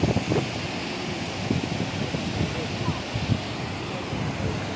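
Jog Falls, a large waterfall in Karnataka, gives a steady broad roar of falling water mixed with wind buffeting the microphone, with faint voices underneath.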